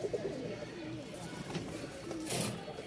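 Pigeons coo softly in a loft among birds offered for sale, low repeated burbling calls under someone talking throughout.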